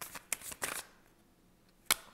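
Tarot cards being shuffled by hand: a few quick papery riffle bursts near the start, then a pause and one final sharp snap, close and fairly quiet.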